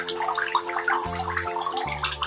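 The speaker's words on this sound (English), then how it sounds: "If we just lift her out a bit, then there's the water pouring out." Water pours steadily out of a Baby Born Little Sister mermaid doll, a continuous close splashing gush with an underlying mechanical hum that shifts pitch a couple of times.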